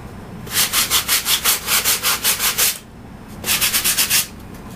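Rhythmic back-and-forth rasping of 150 grit sandpaper shaping and tapering the trailing surfaces of a model aircraft part, a steady run of strokes, a short pause, then a few more strokes, close and alone.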